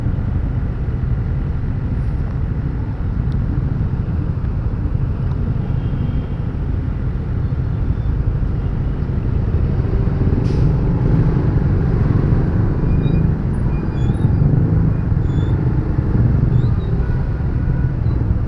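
A manual motorcycle is ridden along a road with its engine rumbling low and steady throughout, with wind and traffic noise around it and no talking.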